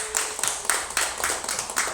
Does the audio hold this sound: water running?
no